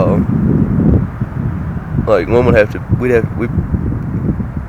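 Strong outdoor wind buffets the microphone on a turkey hunting trip in New Mexico, a constant low rumbling roar under someone talking.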